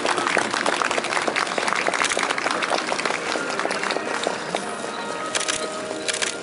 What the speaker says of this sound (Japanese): 大きな拍手を送ってください